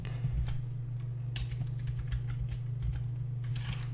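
Keys clatter on a computer keyboard while a search for the game Rage Road is entered on a PC, a steady run of light clicks over a constant low electrical hum.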